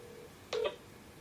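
A single short electronic dial tone beep from a phone while placing a call, brief and fairly clear against quiet room noise.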